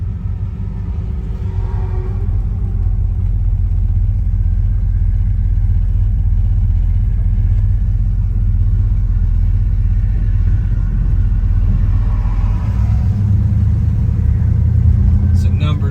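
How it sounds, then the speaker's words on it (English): A 1967 Chevrolet Chevelle SS 396 engine rumbles steadily from inside the cabin while driving, low and constant, with a voice talking over it throughout. "We're going to take this 1967 Chevrolet Chevelle SS for a test drive."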